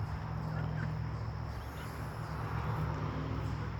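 Backyard chickens near a duck pond make low, muffled clucking and gobble-like calls over a steady broadband background hum, fairly close and continuous.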